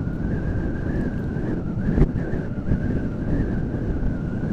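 Strong wind buffets the microphone while riding a motorcycle on a road in Calaca, Batangas, a loud continuous low roar with a steady engine whine beneath it.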